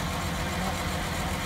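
A 2009 John Deere 8230 tractor with 1585 hours idles at an Iowa farm auction, giving a steady, even engine drone with a low rumble and no speech.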